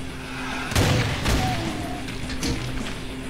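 Heavy revolver shots in the Doom Sigil episode, played in GZDoom, level E3M3 Pandemonium: two or three loud booming blasts under sustained game ambience and music, the first around a second in, another close after.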